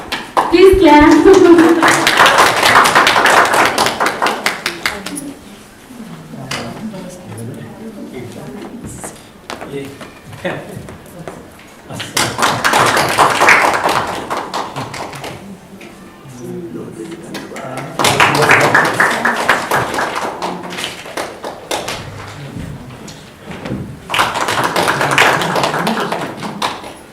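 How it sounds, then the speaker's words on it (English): An audience at a library association event claps in several separate bursts of a few seconds each, a moderately loud patter heard close by, with people talking in the gaps between the bursts. "please clap."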